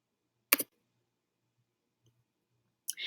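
A computer mouse clicks while a Google Form is being set up, a short double click near the start and another cluster of clicks at the end, crisp and close with quiet in between.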